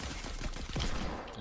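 Gunshots in a Fortnite match: a quick run of rapid, fairly faint shots with a few sharper cracks, mixed with game ambience.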